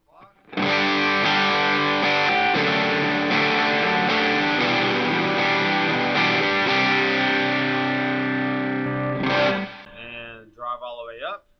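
Electric guitar through a dual overdrive pedal with the drive set at twelve o'clock, loud sustained chords struck several times in a row, ending with a short bit of talking.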